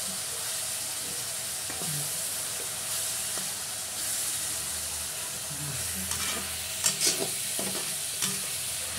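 Onions sizzle steadily in a hot pan while being stirred for a village-style potato chutney, a continuous close frying hiss broken by occasional scraping stirs of the spatula.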